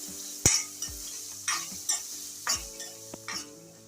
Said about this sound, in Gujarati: હવે આદુ અને ડુંગળીને આપણે સરસ રીતના સતળવા દઈશું